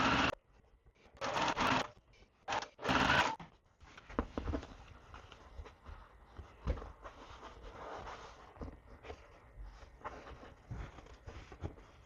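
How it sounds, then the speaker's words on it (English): A sewing machine stitches quilt block pieces in short bursts, with a few loud runs early, then quieter intermittent whirring, fabric handling and small clicks. "I'm just going to flip it over onto this side and sew it down."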